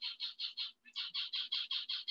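Pet birds give a rapid series of about twelve harsh, evenly spaced squawks at a steady rhythm, broken by one brief gap. The calls are fairly loud and close, with no talk over them.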